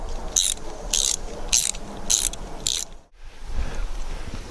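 A cable clamp on a dog run cable being cranked down, five quick ratcheting bursts in an even rhythm, close and crisp, then a brief pause and low handling noise.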